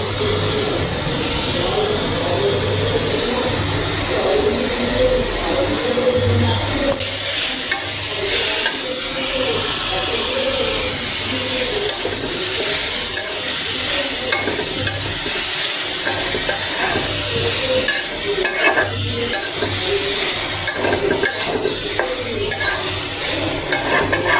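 Yardlong bean bhaji fries in a pan and is stirred, giving a continuous loud sizzle with repeated scraping and stirring strokes throughout.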